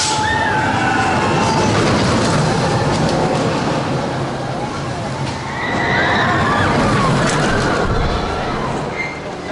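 A loud, older roller coaster train at Six Flags Magic Mountain roars along its track, with rumbling wheels, rattling cars, and faint distant screams throughout.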